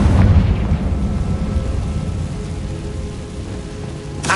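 A Confringo fire blast spell erupts in the Hogwarts Legacy video game: a sharp, loud burst at the start that trails into a long, steady roaring rumble, like crackling flames and falling debris, with a second hit near the end.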